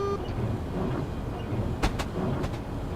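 A high-speed train running from St Pancras to Faversham in Train Simulator 2013, a steady low rumble and rolling drone with a few sharp clicks near the end, continuous and close.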